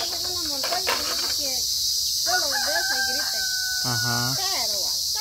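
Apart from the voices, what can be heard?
cricket chirping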